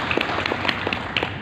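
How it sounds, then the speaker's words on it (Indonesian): A church congregation claps during a sermon, with scattered, moderately loud hand claps in a loose, uneven rhythm and a faint background hum. "Kasih tepuk tangan yang meriah untuk Tuhan."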